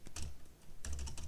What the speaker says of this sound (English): So I might just type firm sells